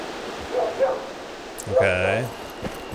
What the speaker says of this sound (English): Oh, there's dogs.